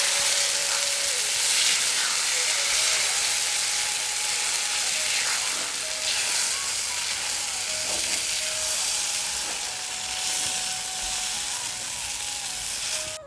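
Raw potato dough frying and being stirred in a pan, a steady broadband sizzle throughout with intermittent scraping strokes of a utensil, close and continuous, with no talking.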